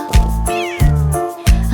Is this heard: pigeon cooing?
no